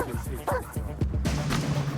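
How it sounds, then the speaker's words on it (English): An angry dog barks repeatedly in sharp, close bursts, about eight rapid yips and woofs, with a low growl or whine running underneath toward the end. "Continue to harass the angry dog."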